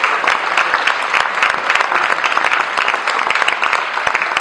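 An audience at a theatre show breaks into sustained applause, dense steady clapping that fills the room with no voices on top.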